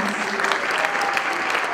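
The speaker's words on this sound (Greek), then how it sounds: "ένα θερμό χειροκρότημα για όλη τη χοροδία μας." An audience at a primary school performance claps warmly for a children's choir, a dense, even burst of applause filling the hall without pause.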